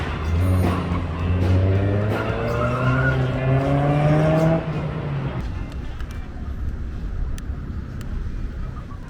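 Yokohama Advan Fleva tires squeal and skid loudly through an autocross course, a long rising howl over a car engine that cuts off about halfway, leaving quieter engine noise and road rumble.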